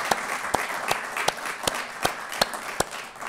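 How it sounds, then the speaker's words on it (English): Audience applause in a room of company representatives: a few distinct, spaced claps over a soft bed of broader clapping, moderately loud and with no speech. "So you all deserve a big round of applause for that."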